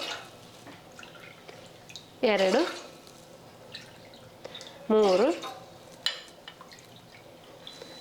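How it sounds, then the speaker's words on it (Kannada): Water poured from a cup into a cooking pot for Alvi payasa, a health drink, in two short splashy pours that rise in pitch as the pot fills, under a voice speaking. "ಈಗ ಇದಕ್ಕೆ 4 ಕಪ್ ನೀರು ಹಾಕ್ಕೋತೀನಿ ರೀ"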